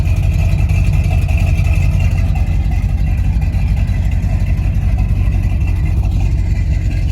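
A Chevrolet C10 pickup truck with a new exhaust and an untuned carburetor rumbles steadily close by, a loud, continuous low engine drone with little variation.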